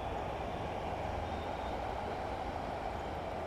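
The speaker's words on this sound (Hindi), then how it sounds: "जब ट्रेन दूर होती है ना तब से आवाज़ आनी चालू हो जाती है" A train runs along a railway line at a distance, a steady broadband rumble that holds evenly throughout with no voices.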